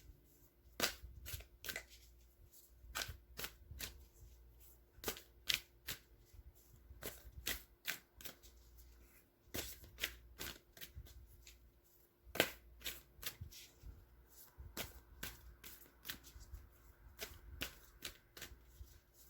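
Tarot cards are shuffled again and again, with dense bursts of crisp papery riffles and flicks that come in quick irregular clusters, close and clear with no talking.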